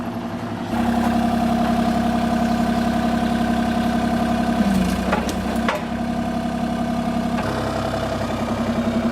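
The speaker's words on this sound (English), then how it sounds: "Jesse's just moving some rocks around before they come and pick up the excavator" An excavator's engine drones steadily nearby while it moves rocks around a driveway, the loud, constant mid-low rumble broken by a few brief clanks of stone near the middle.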